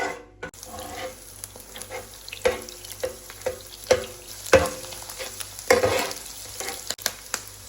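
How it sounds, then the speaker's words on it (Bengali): Fried rice being stirred in a pan with a packet of Maggi masala, a steady scraping and sizzling texture with periodic louder spatula strokes, close and without talk. "তারপরে এটা কতক্ষণ নাড়াচাড়া করতে হবে, সব মশলা একসাথে"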